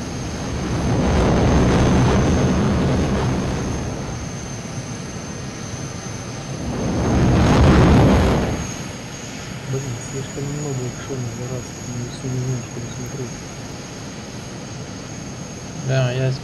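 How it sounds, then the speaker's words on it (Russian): Propeller airplane engine in ArmA 2 swells as it passes close twice, each a loud rising-and-fading drone, followed by softer engine hum and chirping, with someone talking over parts of it. "Пока за самолет смотрим"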